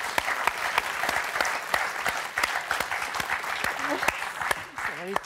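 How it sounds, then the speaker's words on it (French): Steady television game show studio audience applause, a dense clatter of many hands clapping throughout, with no voices standing out. "on va vous applaudir une fois de plus"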